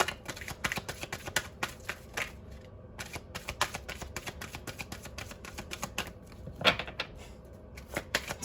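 Tarot cards are shuffled by hand in quick irregular riffles and soft taps, close but quiet, without talk.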